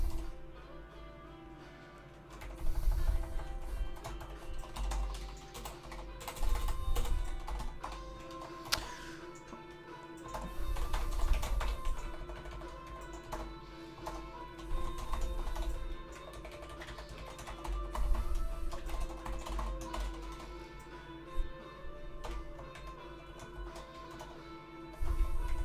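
Computer keyboard typing runs in steady bursts of close clicks, pausing now and then, with no voices over it.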